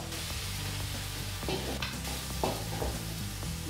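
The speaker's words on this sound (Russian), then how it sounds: "Отправляем эту смесь на сковородку, перемешиваем" Squid ink thinned with broth is stirred in a hot frying pan for black rice with cuttlefish, a steady loud sizzle with scraping and clinking stirring strokes throughout.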